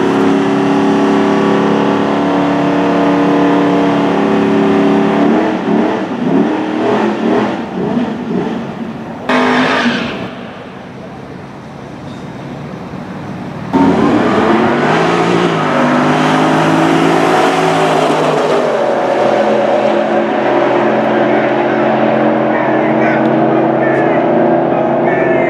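A Chrysler 300 and a Camaro street racing for money: loud, sustained engine roar with rising revs and a brief lull midway, then a renewed surge of acceleration, with crowd voices mixed in.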